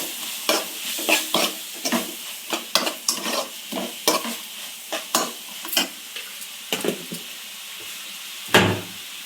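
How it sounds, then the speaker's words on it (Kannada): Turmeric fries in hot oil for a North Karnataka-style ogganne mirchi, with a spoon scraping the pan in steady, rhythmic strokes over a constant close sizzle, ending in one louder clunk. "ಅರಿಶಿನ, ಇದು ಚೆನ್ನಾಗಿ ಫ್ರೈ ಆಗಬೇಕು."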